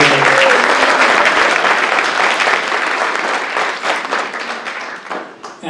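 An audience at an event space in a belfry breaks into loud, dense applause for the woman who runs the venue, the clapping gradually thinning and tapering toward the end.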